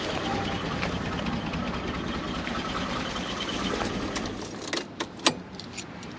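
A Datsun 280Z engine idles with a steady low rumble, then is switched off near the end, leaving a few sharp metallic clicks and key jingles in the quiet.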